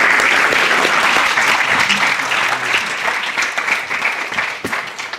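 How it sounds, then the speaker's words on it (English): An audience at a pitch competition's grand final breaks into loud, dense applause that fills the whole stretch and thins slightly toward the end, with no talking over it. "Awesome. Good clapping."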